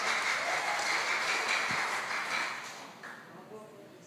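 Applause from the audience at a hybrid webinar event, a dense wash of clapping that starts full and loud, then gradually thins and fades over a few seconds.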